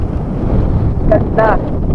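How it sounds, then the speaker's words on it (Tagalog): Strong wind buffets the microphone with loud, constant low rumbling, and a brief voice exclaims over it near the end. "Kaya kung makikita nyo, ang lakas ng hangin."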